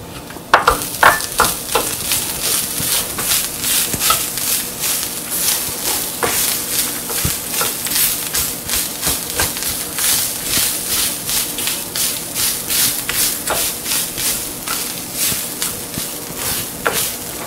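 Grated coconut stirred in a hot pan after the stove is turned off, giving a constant soft sizzle and hiss with repeated spatula scrapes, close and fairly loud, no talking.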